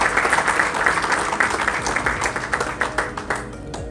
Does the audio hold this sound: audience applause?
yes